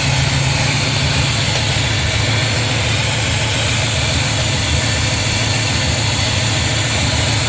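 A Chevy 350 small-block V8 idles steadily in a 1987 Dodge Dakota, a loud, constant low rumble that stays even and unbroken throughout, with no talking.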